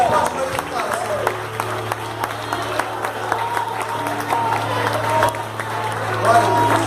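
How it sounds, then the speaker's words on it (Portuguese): Church congregation applauding during a service, steady sustained clapping from a crowd with murmuring voices and a low hum underneath. "Você pode aplaudir ao Senhor."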